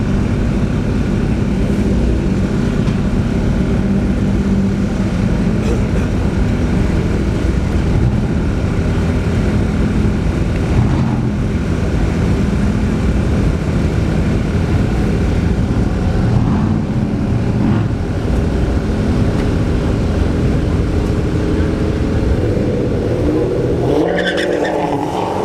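A CL1 Camaro in the left lane and a Hellcat Charger in the right launch side by side at a dragstrip test-and-tune session, engines roaring loud and sustained, the howl rising and holding before easing near the end.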